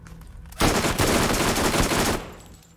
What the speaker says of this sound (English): it's just the SMG is super fucking loud